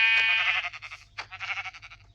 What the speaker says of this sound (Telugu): ఇక్కడ నా మేక.